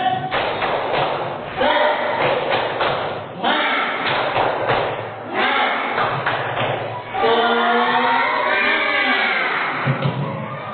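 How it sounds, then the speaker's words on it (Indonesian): A classroom of students does the tepuk semangat chant, rhythmic bursts of hand claps alternating with voices chanting in unison, close and loud, over several repeated phrases. "Coba tepuk semangat"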